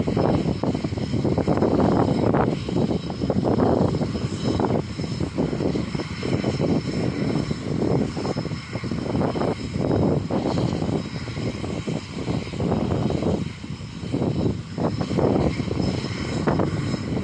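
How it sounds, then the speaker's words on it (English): Propeller engines of an aeroplane wind up before takeoff, a loud, close, sustained drone that throbs with a pulsing rhythm throughout, with no voices over it. "The engines are winding up. Soon it will turn. Ready to take off."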